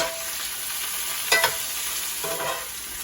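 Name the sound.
onions sautéing in a skillet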